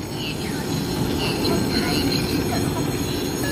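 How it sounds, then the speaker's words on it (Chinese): A China high-speed Fuxing train passes close by with a loud, steady rolling roar and a thin wheel squeal running through it, unbroken from start to finish. "这是中国高铁复兴号。"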